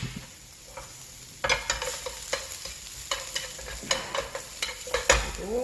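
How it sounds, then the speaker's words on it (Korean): Shiitake mushrooms stir-fried with meat in an oiled pan in a Korean cooking class kitchen, loud close sizzling with repeated scraping and stirring strokes in an uneven rhythm, no talk. "표고는 모양 변하지 않으니까 그냥 편하게 볶아주세요."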